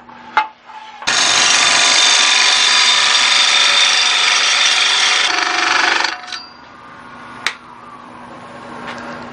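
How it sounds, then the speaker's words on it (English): A turned twig vase being cut off while still mounted on a wood lathe, producing a loud, steady scraping roar for about five seconds that stops abruptly, followed by a few sharp knocks. "the last thing while it's mounted on here is just to cut it off right up there"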